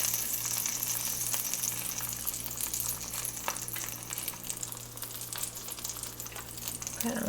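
A birria taco, its tortilla dipped in the meat broth, fries in a hot skillet with a steady, loud, hissing sizzle. Faint stirring noises sit under the sizzle throughout, close and continuous with no speech.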